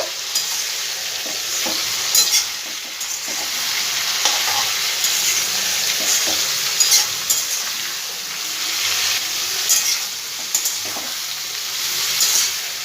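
Pumpkin, cucumber and other vegetables are stirred with salt in a hot pan, a close, continuous frying hiss with repeated scraping and tapping of the spoon.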